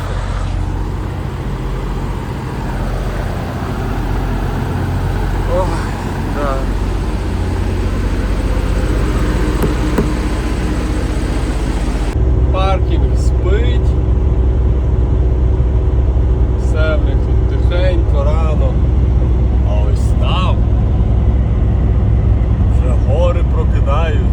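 A truck drives on the road, heard from inside the cab as a loud, steady low engine and road rumble lasting throughout. Someone speaks intermittently over the noise.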